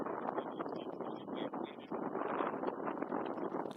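Gusty outdoor wind buffets a microphone in a broadcast booth at a disc golf game in Bangkok, a steady rough roar with rising and falling surges and flags flapping nearby, loud throughout.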